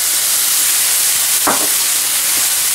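Steady loud hiss of bean sprouts hitting a hot pan during a stir-fry of walleye fish Oriental style, with a brief sharper sizzle burst midway and no talk.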